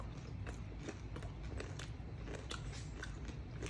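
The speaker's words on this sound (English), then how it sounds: "That crispiness, that crunch." Crunchy bites of Mexican food with an Indian twist, close and crisp, with a quick run of crackly crunches over a low, steady background.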